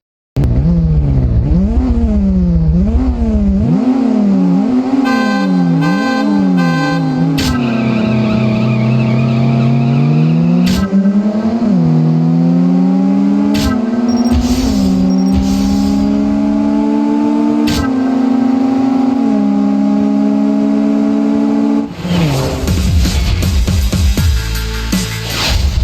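Car engines rev in a racing video game, rising and falling in pitch with repeated gear-change swoops and upshifts, loud and continuous, with tire noise, a few sharp clicks, and a burst of skidding near the end.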